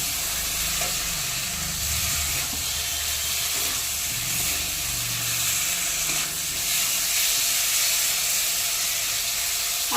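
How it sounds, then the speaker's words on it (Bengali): Fried jackfruit is stirred into a sizzling spice paste in a pan, giving a steady close frying hiss with scraping stir sounds, no voices. "এবারে ভেজে রাখা এঁচোড়টা দিয়ে দেবো।"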